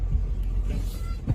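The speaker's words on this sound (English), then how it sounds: "Look at the car pull in." A car pulling in nearby, a low engine rumble with a brief swell of motor noise toward the end, heard close and fairly steady.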